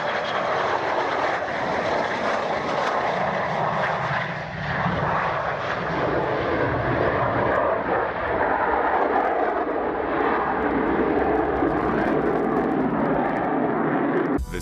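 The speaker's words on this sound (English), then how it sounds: "This fighter jet touched down in the grass just short of the runway" A fighter jet roars steadily and loudly as it lands on grass just short of the runway, engine noise shifting slightly in pitch as it passes close by, with no voices.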